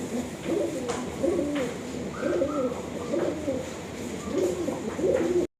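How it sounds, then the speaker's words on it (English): Roller pigeons coo in soft, repeated bubbling phrases from close by, rising and falling in short rhythmic bursts over a faint background hum. "ഇതിനകത്ത് roller pigeons ഉണ്ട്."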